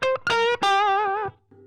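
Les Paul electric guitar notes, driven through a Fender 68 Custom Vibro Champ amp, come as two quick plucks and then a longer wavering held note with a slight crunchy edge, close-miked, ending in a soft low tail.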